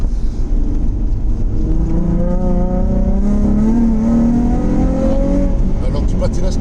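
Nissan 350Z phase 3 fitted with an HKS exhaust, heard from inside while accelerating, its engine note rising steadily in pitch and staying loud throughout, with voices talking over it.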